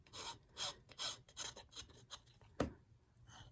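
A nail file rasps along the edge of a flat wooden raccoon craft piece in repeated short, close strokes, each a soft scratchy pass, with one sharper scrape near the end.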